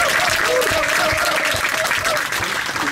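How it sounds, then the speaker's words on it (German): Passengers applauding aboard a Eurowings Airbus A319 on a flight from Berlin Tegel to BER, steady dense clapping filling the cabin with a voice faintly audible underneath. "Ich denke, das ist wirklich mal einen richtigen Applaus wert."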